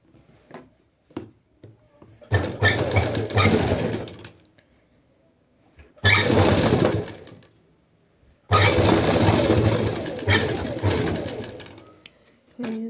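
A sewing machine stitches a round-collar Anarkali frock in three bursts of rapid running, separated by quiet pauses with small clicks and handling noises.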